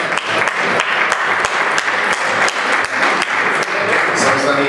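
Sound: applause for a fighter at a weigh-in

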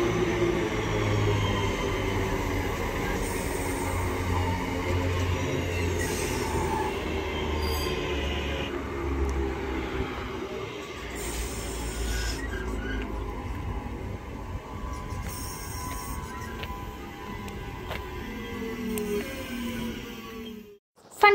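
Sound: CrossCountry train arriving at Duddeston station

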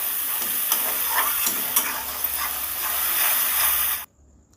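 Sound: turmeric being stirred into frying fish curry

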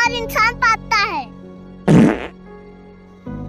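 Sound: fart

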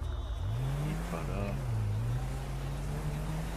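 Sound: car driving in the video game GTA 5

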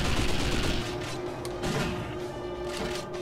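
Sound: gunfire in the video game 007 Nightfire

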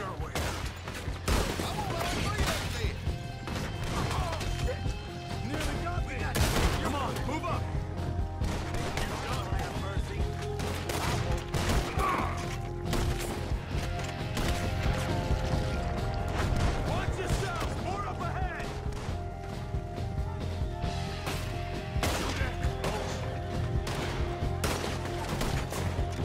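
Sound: gunfire in the video game Red Dead Redemption 2

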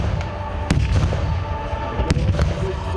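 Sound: gunfire at a WWII battle reenactment

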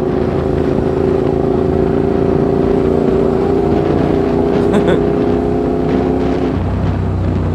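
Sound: Naza/Hyosung Blade 650 GTR motorcycle exhaust noise

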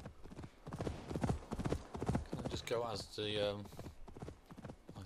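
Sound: horse hooves trotting in video game Assassin's Creed Valhalla

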